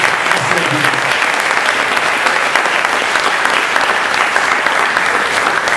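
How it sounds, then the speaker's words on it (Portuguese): A congregation bursts into loud, sustained applause during a church service, a thick, continuous wash of clapping hands that holds at full strength throughout with a few voices beneath. "Dá ele um aplauso"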